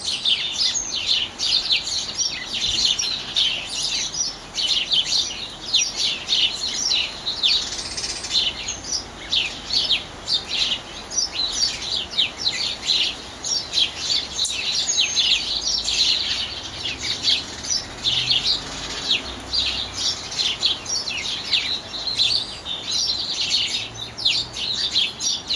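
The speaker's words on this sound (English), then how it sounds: "Here are the birds chirping away." Small birds chirp repeatedly in a backyard garden around an Allen's hummingbird nest, rapid high tweets overlapping steadily against a quiet background.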